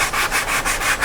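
Hand sanding the rough cut edges of a 2x4 board: close, loud rhythmic scratchy rubbing strokes, about five back-and-forth passes in a second, with no voices.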